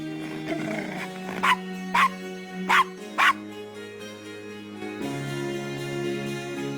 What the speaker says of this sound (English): Nice doggy. Good Castro